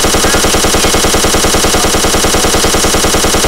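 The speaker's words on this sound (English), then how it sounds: "So now, bullets. But we need to turn around so we'll have something to shoot at. Okay. So now I click on the turret again." A turret in the Minecraft Flan's Mod video game fires bullets in a loud, unbroken rapid burst, steady machine-gun rattle with no pauses and no talking.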